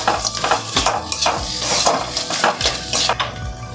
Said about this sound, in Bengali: লেড়ো গুঁড়ো, বাদাম, এটাকে দিয়ে আমি ভালো করে একটু কষিয়ে নেব।